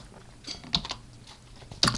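Quick bursts of keystrokes on a computer keyboard as a program is typed at a command line, a few close, clicky presses with brief pauses and no talking.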